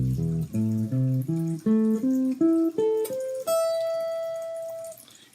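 An 8-string guitar in drop E tuning plays an arpeggio, clean picked notes climbing steadily one by one from low to high, ending on a sustained top note that rings out and fades, close and alone.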